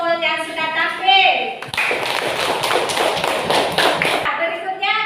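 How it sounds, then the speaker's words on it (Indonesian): Classroom group applauding after a performance: a burst of clapping from many hands lasting a few seconds, framed by a speaking voice before and after. "Jadi kita beri aplaus kepada kelompok yang sudah tampil."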